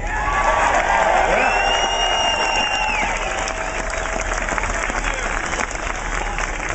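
A crowd at a Pittsburgh Tax Day Tea Party rally breaks into sustained loud applause and cheering to welcome a speaker, clapping dense and steady before easing slightly, with a whistle cutting through early on.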